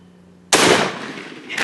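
A single loud shotgun blast fired at a turkey through brush during a youth spring hunt, sharp onset with a long decaying rumble, followed by faint rustling.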